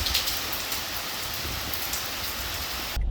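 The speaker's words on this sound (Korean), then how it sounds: "비가 오네요." Steady rain falls for three seconds, a dense even hiss of drops striking a surface outside on a wet day, with no voices and a brief cut at the end.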